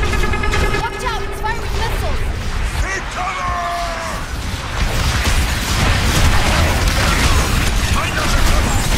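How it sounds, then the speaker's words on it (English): A robot in the Overwatch 2 video game fires missiles in a loud, busy combat scene, with mechanical whirring, booms and crashing impacts while voices talk over the action. "It's firing missiles!"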